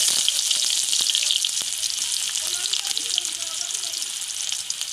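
Onion goes into hot oil with cumin seeds and green chillies, giving a loud continuous hiss and sizzle with small crackles, close up and steady, while the cook's voice is faintly present.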